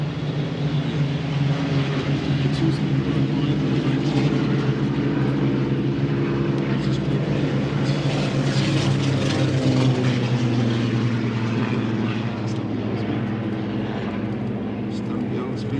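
Spitfire fighters taking off at an airshow, their piston engines a loud, steady droning roar that swells slightly and carries on throughout, with some voices mixed faintly beneath.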